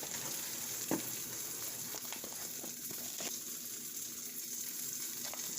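A veggie omelet frying in a pan on medium-high heat, a faint continuous sizzle with a few soft clicks and taps, no talking.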